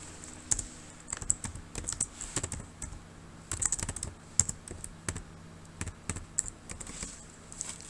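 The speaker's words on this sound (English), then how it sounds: "You can type anything you want." Close, quiet typing on a computer keyboard, with irregular key clicks and small clusters of taps spread throughout and no talking.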